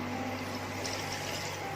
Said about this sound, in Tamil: ரெண்டு டம்ளர் தண்ணி ஊற்றிக்கலாம்.